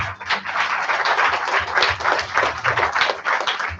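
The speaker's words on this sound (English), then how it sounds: "Please give a big applause." An audience claps steadily for award recipients at a book marathon felicitation, a dense, even patter of many hands that holds at a constant level throughout.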